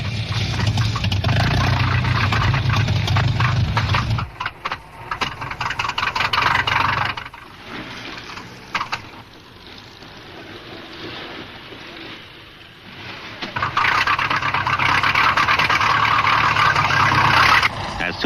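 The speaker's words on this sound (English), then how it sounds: "To economize the limited fuel, cars are started at the last moment" Early racing car engines fire up at the last moment before a race, first a loud steady rumbling idle, then a quieter stretch, then engines roaring back up together at close range.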